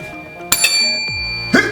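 Bright ding of a notification bell sound effect, a quick ringing chime with a couple of short clicks before it and a brief thump at the end.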